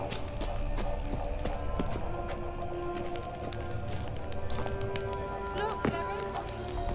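Hooves of Geralt's horse Kelpie in The Witcher 3 clatter in a steady, rapid galloping clip-clop through the whole stretch, moderately loud over ambient game sound, with a few other game noises near the end.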